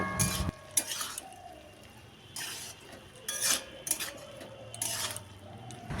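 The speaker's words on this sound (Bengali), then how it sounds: "ঢাকা তুলে আবারও ভালো করে মিশিয়ে নেব" Malabar spinach (pui shak) fry is stirred in a pan, with soft sizzling under several short bursts of spatula scraping and clinks against the metal, quiet and close, with no talking.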